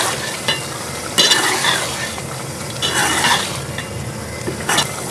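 Chicken mince masala with sliced tomatoes being stirred and fried in a pan, a loud close sizzle broken by repeated scraping sweeps and clinks of a spoon against the pan.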